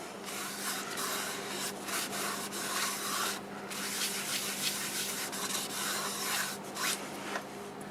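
Rubbing shellac-based sanding sealer onto a turned wooden bowl gives a steady, soft, close-up hiss and scrub of cloth against wood, continuous and even for several seconds with slight rhythmic swells.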